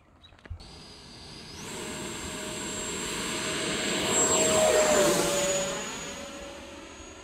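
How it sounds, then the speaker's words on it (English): An E-flite Viper V2 70mm electric ducted-fan RC jet takes off, its turbine-like whine rising and sweeping in pitch as it accelerates past and away, loud and steady with a sharp click near the start. "Now be careful, this plane takes some room to take off."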